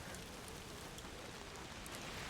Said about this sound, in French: Oh mais même l'effet de pluie, regardez-moi ça.